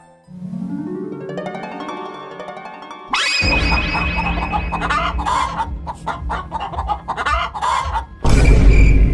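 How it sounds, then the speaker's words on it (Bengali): Hens in a cartoon scene cluck and squawk in an agitated, loud, close burst with a rooster-like call, coming after a tonal musical lead-in. "এক রাতে বুড়ির মুরগিগুলার আওয়াজে ঘুম ভেঙে গেল"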